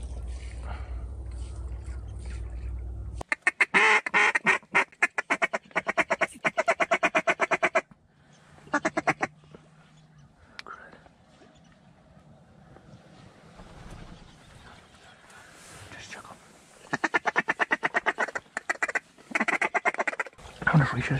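Ducks quack in repeated bursts near a hunting blind on the water, with a drake on the water nearby, some calls loud and close, interspersed with wind noise and quiet speech from hunters.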